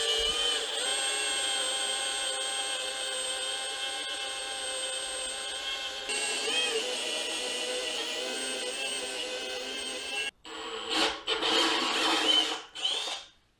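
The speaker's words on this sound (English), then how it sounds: "I'll drill it until it goes up a layer, and then I'll check the bung." A drill bit bores a hole in the oil pan of a Nissan Z31, a steady high whining drone that shifts pitch midway, then stops and restarts in short uneven bursts near the end.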